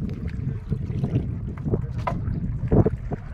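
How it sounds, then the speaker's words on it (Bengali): Strong wind buffets the microphone on a small fishing boat in deep jungle waterways, a steady low rumble that swells in gusts, with no voices. "হাওয়ার চাপটা খুব"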